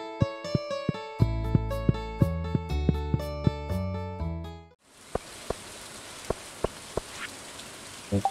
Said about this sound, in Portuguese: Chuva normal, hein?